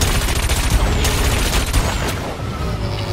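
Plasma cannon fired in the futuristic racing game WipEout Omega Collection, a loud dense burst of booming, crackling weapon blasts with no speech.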